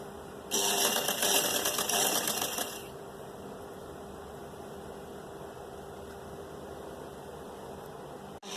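A sewing machine runs a quick burst of stitching on suit and blouse sleeves, a close, rapid mechanical rattle lasting about two seconds before dropping to quiet room noise.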